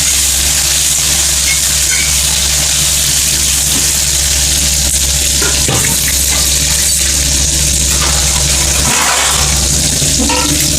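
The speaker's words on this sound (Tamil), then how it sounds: "இப்போ நம்ம வந்து வெங்காயம், கொஞ்சம் தக்காளி, பச்சை மிளகாய் இதை வதக்கிக்கலாம்" Onion, tomato and green chilli sautéing in a pan for a home-cooked Tamil anchovy dish, a loud constant hiss of frying over a low hum, broken by a couple of sharp scraping stirs.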